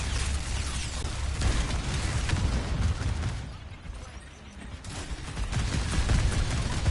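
Rapid bursts of gunfire and ability effects from an Overwatch match fill the scene, dense and continuous with a brief lull midway. A faint voice sits underneath.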